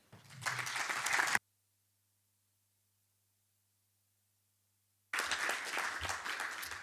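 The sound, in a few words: audience applause after a talk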